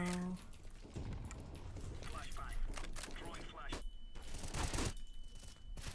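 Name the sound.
AK rifle gunfire in video game Counter-Strike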